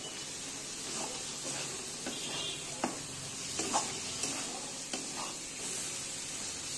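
Chopped eggs are stirred in a hot pan for veg masala chowmein, making a steady low sizzle and hiss broken by faint scrapes and taps of the spatula against the pan.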